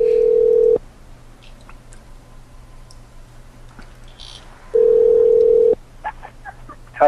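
Telephone dial tone sounding in two steady bursts with quiet gaps between, then a few short dialing beeps and faint clicks near the end.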